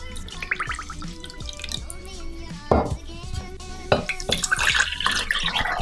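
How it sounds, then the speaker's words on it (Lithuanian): Water poured into bowls in a home kitchen while a birthday cake is being made, soft splashing and pouring mixed with clinks of dishes and faint background voices. "Užpilome 400 ml vandens."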